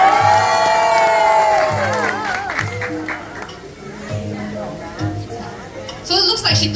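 An audience at the Singapore Zoo elephant show cheers and shouts to call an elephant down, with children's yells and whoops rising in uneven bursts after a drawn-out shout at the start.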